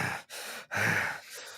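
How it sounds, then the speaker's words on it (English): A person breathes heavily, with two long, loud, close breaths separated by sharp pauses and a fainter exhale at the end, with no talking. "Heavy breathing."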